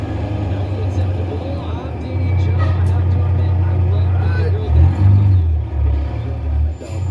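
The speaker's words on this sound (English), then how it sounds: "Got some traffic coming." Road traffic rumbling past a parked truck hauling a Craftsman race truck, a loud low engine drone that swells as vehicles go by, with a heavier surge near the end.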